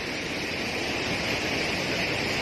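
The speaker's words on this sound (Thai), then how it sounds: "ไหลทะลัก เยอะจริง ๆครับ เป็นน้ำตกเลยนะครับเป็นน้ำตกขนาดใหญ่เลยนะครับ" Floodwater gushing over like a large waterfall during widespread flooding, a loud, dense, unbroken roar of rushing water with no talk.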